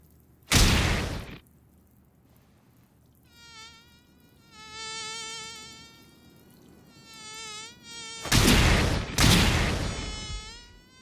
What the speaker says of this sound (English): Saitama spends half the episode trying to catch a mosquito